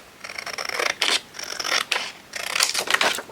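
Scissors cutting a sheet of paper for a handmade journal, several close, crisp snipping strokes in an uneven rhythm with short pauses between them, with no talking.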